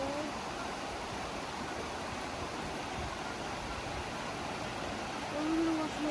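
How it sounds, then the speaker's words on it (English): Steady broadband rush of river water flowing over rocks in a mountain setting, continuous and fairly close, swelling slightly near the end with no speech over it. "Ari, how you enjoy that beautiful sound of water?"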